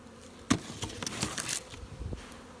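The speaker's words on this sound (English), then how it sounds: "there's a couple bees squirming in there" Bees in a hive buzz close by in uneven, rising and falling bursts, with no voices.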